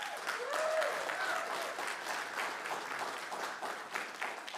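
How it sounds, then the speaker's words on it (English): A church congregation applauds for its volunteers, a steady wash of clapping hands that holds throughout, with a brief voice rising over it near the start. "Let's give a round of applause for volunteers."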